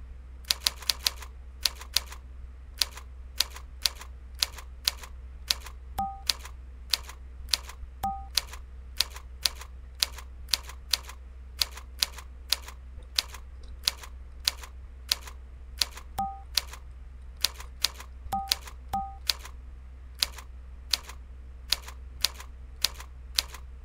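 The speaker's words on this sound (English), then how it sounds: "Is it not gonna hear the keyboard?" Rapid touch typing on a computer keyboard, a steady stream of close, crisp key clicks with brief pauses and occasional heavier strokes, heard alone without talk.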